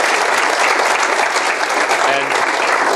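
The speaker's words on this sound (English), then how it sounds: "Let's give him a round of applause" Steady audience applause fills the room from start to finish, dense and even without pauses, with a faint voice briefly audible underneath.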